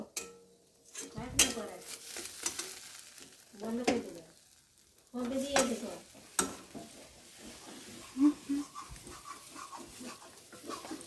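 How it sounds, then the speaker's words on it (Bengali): A spatula scrapes and stirs food in a wok, in irregular bursts of clanking and scraping with soft frying between, close by. "খুনতি ছাড়া কি নাড়া হয় নাকি এইসব জিনিস"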